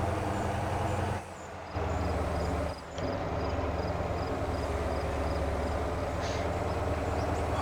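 Garbage truck driving in the Motor Town video game, a steady, loud rumbling engine drone with two brief dips in level and a faint high whine riding over it.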